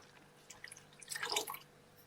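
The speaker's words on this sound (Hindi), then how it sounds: "ये आधा गिलास और पानी तीसरी बार डाल रही हूँ।" Ice-cold water splashes and trickles into a pot of Kashmiri chai in a brief, close pour, with scattered drips around it.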